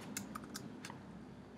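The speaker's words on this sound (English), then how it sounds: "Now you can do a custom message if you want. For example, you just type in, hi Vadim, please review" Computer keyboard typing heard faintly, a few separated keystrokes early on and then a quiet stretch, with no talking.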